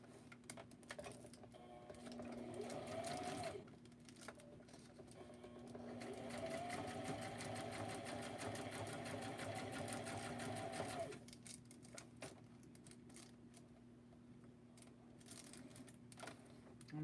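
A sewing machine stitches fabric for a stuffed toy craft, running in a steady whirring, rattling stretch, pausing briefly, then running again, close but quiet with faint speech.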